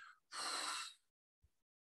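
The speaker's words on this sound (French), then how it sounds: "dans l'expiration, vous ramenez tout devant et vous soufflez" A single forceful breath blown out through the mouth during a relaxation exercise, a loud rushing exhale lasting under a second, followed by a faint short breath and then silence.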